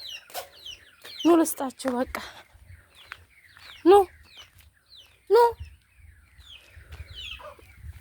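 Chickens cluck and squawk nearby in several loud separate bursts while being fed injera, with quieter clucks in between and a woman calling to them.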